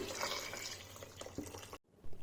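Water from a mixer jar holding leftover ground masala is poured into a cooking methi and pea pulao curry, a close pouring and splashing sound that stops abruptly near the end.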